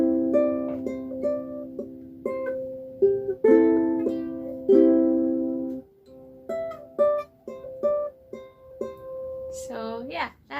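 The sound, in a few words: ukulele playing song intro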